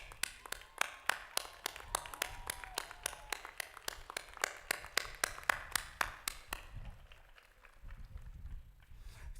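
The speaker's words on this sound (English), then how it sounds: "give them a standing ovation" Graduation commencement audience claps and applauds during a standing ovation, a steady dense patter of many hands that stays fairly close and even before thinning and fading toward the end.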